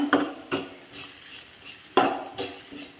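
Coriander powder and garam masala stirred in a pan on low heat for a green peas curry, a few distinct metal spoon scrapes and taps over a faint sizzle, close and otherwise quiet.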